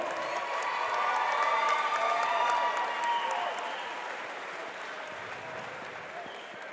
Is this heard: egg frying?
no